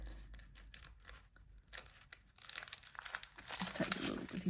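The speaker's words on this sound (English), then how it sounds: "And then when I want it, I just peel it off." A red painted layer is peeled off a surface, giving close crinkling and crackling that grows louder and denser toward the end, with some tearing.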